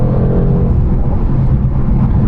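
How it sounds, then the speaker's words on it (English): Loud, close engine roar of a 2021 Audi RS6 Avant with an aftermarket intake and tune, accelerating hard as a steady, powerful drone with a deep low rumble throughout. "Let's just do it for fun, punch the car, and see what it's like first time."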